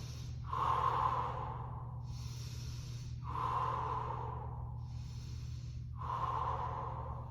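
Slow, deep breaths while holding yoga boat pose, three long audible inhales each followed by a breathy exhale, close and clear over a low steady hum.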